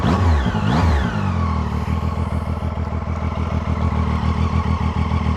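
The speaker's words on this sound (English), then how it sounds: "but a nice tone to that exhaust" A Zontes ZT703-F triple-cylinder motorcycle engine revs up and settles into a steady, smooth exhaust burble, loud and close, with a rapid pulsing rhythm and no talking.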